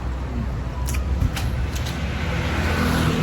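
Engine of a service motorcycle used in Taiwan idling and rumbling steadily up close, with brief faint mechanical clicks and road noise throughout, no speech.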